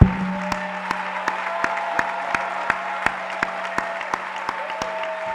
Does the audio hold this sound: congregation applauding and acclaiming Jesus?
yes